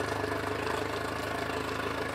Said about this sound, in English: And we now turn the engine on and leave it in neutral.